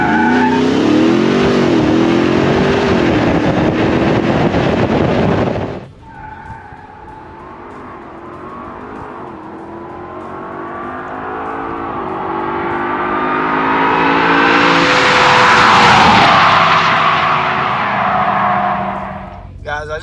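A 6,800-pound Ram 1500 TRX pickup spins all four tires in a loud, smoky burnout, first a harsh roar, then a sudden drop before engine pitch climbs steadily to a screaming peak and fades; voices talk faintly over it.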